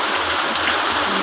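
Heavy rain on a rainy morning pours down in a steady, dense, loud hiss with no break, filling the whole moment without any voices.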